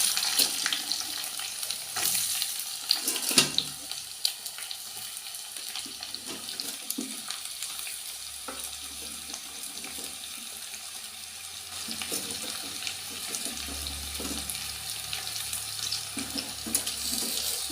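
Chopped onions frying with garlic and ginger in a pan for a soybean meat curry, a steady close sizzle broken by scraping stirs and clinks, with no talking.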